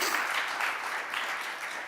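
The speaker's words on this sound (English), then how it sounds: "Do that applause one more time." Brief audience applause at a policy panel event, a steady, moderately loud wash of clapping from a seated crowd lasting the whole moment, with no talk over it.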